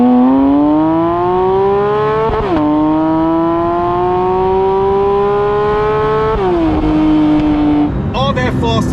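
Porsche 911 GT3 (992) naturally aspirated flat-six revving hard through the gears, loud rising engine notes broken by two quick upshifts, ending with crackles; a voice talks over the cabin sound.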